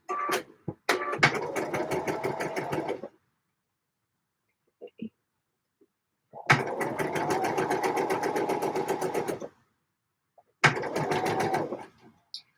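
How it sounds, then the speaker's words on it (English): A sewing machine runs in three bursts of rapid, even stitching as a circle skirt is seamed to a dress, with short quiet pauses between runs; close and clear, with no talking. "I'm sewing this with the circle skirt side up because that's the one that's going to misbehave if I've got it under the presser foot"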